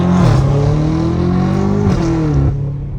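A straight-piped BMW M5 Competition revs hard and loud up close, its exhaust note holding a steady roaring drone that climbs slightly in pitch before dropping off near the end.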